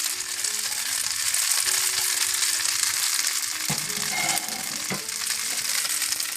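Steady sizzling of Hakka noodles frying in a pan as green onions go in, a bright continuous hiss with a couple of soft clatters of stirring partway through.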